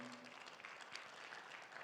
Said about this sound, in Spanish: ¿Cuánto dan un fuerte aplauso al Señor?